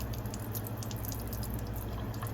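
A water spout runs steadily while an acoustic dispenser is being cleaned, giving a constant close rushing hiss with a low rumble beneath and no pauses.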